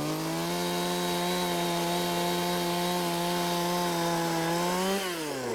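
A hand-held powered ice auger bores through lake ice while ice fishing for crappie, giving a loud, steady engine drone that dips in pitch near the end as the bit breaks through.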